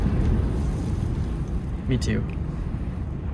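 Strong, blustery wind roars continuously across the microphone at an outdoor fire pit, with a brief spoken reply partly buried in the gusts.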